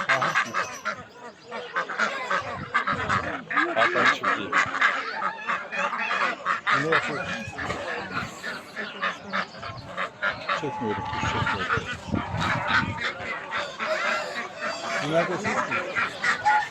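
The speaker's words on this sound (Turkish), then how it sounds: "ördekler, kazlar, tavuklar, bayağı çeşit var bu arkadaşlar" A farmyard chorus of geese honking continuously at Edirnekapı poultry market in Istanbul, mixed with duck quacks, chickens and other fowl, while people talk over the noise.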